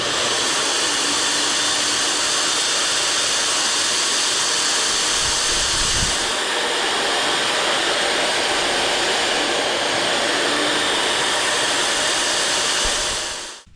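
Metal cutting tool machining the worn arm end of a Bobcat T200 skid steer at about 30 thousandths depth of cut, a loud continuous hiss and whine that holds steady for over thirteen seconds before cutting off.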